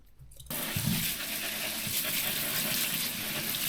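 After a brief quiet moment, a tap opens and water runs steadily over food in a sink, a loud continuous hiss and splash close by with faint knocks of handling.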